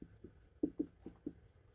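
Chalk or marker writing on a board during a chemistry lesson on acids, bases and salts, heard as a quiet series of short, close scratching strokes in an uneven rhythm, with no talk.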